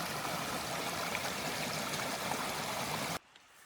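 Flowing stream water on a trail near Elk Lake in Banff, a steady broadband rush that stays close and loud, then cuts off abruptly near the end.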